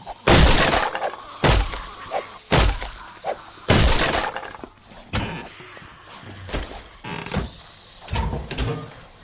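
Glass shower enclosure shattering in the survival game 7 Days to Die, heard as a series of loud crashing breaks and tinkling debris, several sharp bursts spread over a few seconds, close and without talk.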